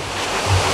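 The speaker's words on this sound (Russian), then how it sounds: "а здесь большой водопад" A large mountain waterfall in snowy mountains, not far off, gives a steady broadband rush of falling water mixed with wind across a short stretch, with no talking.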